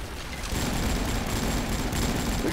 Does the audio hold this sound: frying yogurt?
no